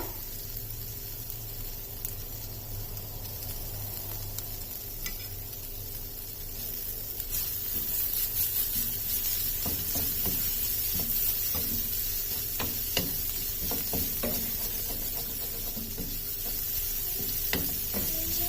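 Ginger garlic paste fries with softened onions in a pan for potato poori masala, giving a steady sizzle that grows louder halfway through, with scraping clicks from constant stirring and no talk.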